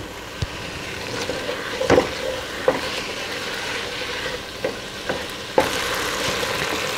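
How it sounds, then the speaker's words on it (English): Six cloves of chopped garlic with softened onions fry in a pot for marinara sauce, a steady sizzle broken by occasional clanks and scrapes of a stirring spoon. "So I'm going to add 6 cloves of chopped garlic. And I'm going to let that cook for 1 minute."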